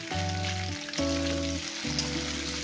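Potatoes fry in a pan with a continuous close sizzle, accompanied by a steady tonal hum that shifts pitch a few times.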